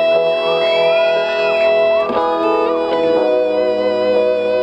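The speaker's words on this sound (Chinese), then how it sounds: "我觉得你们的尖叫都很不平均" A concert audience at a Taipei pop show screams and shouts together, many high voices overlapping in loud, uneven waves that rise and fall over a few seconds.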